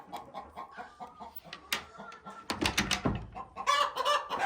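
Hens clucking close by in a coop in short, busy bursts, with scratchy rustling and a louder flurry of movement toward the end.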